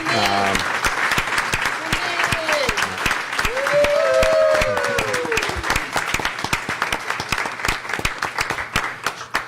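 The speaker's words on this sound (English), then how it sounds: "I think we should all extend a big round of applause to Cindy." Conference audience applauding, a broad round of many hands clapping steadily in a hall while people's voices and shouts carry over it, the clapping thinning out toward the end.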